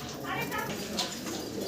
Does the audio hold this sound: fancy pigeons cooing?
yes